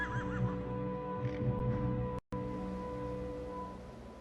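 Horse whinnying in the Tactics Ogre: Let Us Cling Together video game, a synthesized neigh over dramatic game music, followed by a brief silent gap before the music resumes.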